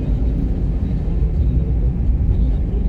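Steady, loud road rumble while overtaking a truck on a village road near Pati, a continuous low engine and tyre drone with no distinct breaks.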